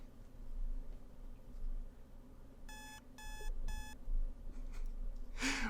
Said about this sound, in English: An alarm clock.